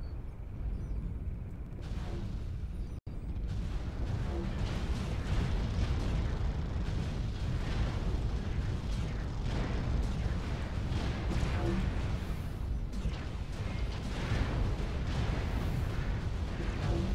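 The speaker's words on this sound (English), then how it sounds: "launching missiles down at you guys" Missile launches and explosions in a video game mech fight, a continuous loud barrage of booms and rumbling blasts, with one brief cut near the start.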